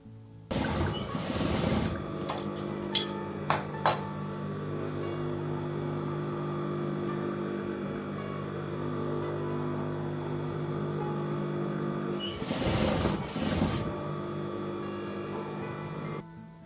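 A sewing machine stitching fabric hums steadily at close range, with short bursts of needle clatter at the start and again near the end, plus a few clicks early on.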